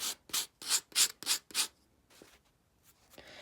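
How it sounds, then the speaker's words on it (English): Popsicle stick edges rubbed with sandpaper for a wall deer-head craft: six quick, close scratchy strokes in a steady rhythm, then a few fainter, softer rubs. "Let's see how it looks if we sand down these edges just a little bit."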